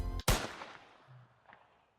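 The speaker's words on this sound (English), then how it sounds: "the man raised his gun at Sam's face and instantly pulled the trigger." A gunshot in the Seduce Me video game fires as a single loud, sharp crack that decays into a fading reverberant tail, with a faint thump after it and no voices.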